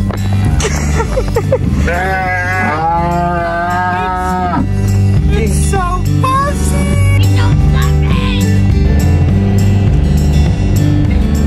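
Hungry cattle in a herd on narrow marsh levees moo loudly and close by, several long drawn-out calls one after another over a steady low rumble.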